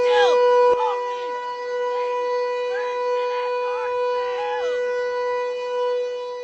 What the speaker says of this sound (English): We're getting ready for Vermont Yankees' annual emergency siren test.